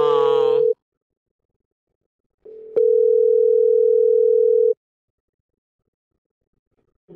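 A telephone tone sounds while a call is placed back to a number. A short tone at the start is followed by a pause, then a steady, unbroken tone lasts about two seconds before going silent.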